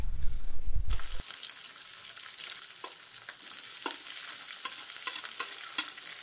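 Carrots, capsicum, green chillies and tomatoes stir-fry in a kadhai with cloves, cardamom and cinnamon. A loud stirring clatter opens, then a steady close sizzle runs throughout with scraping strokes.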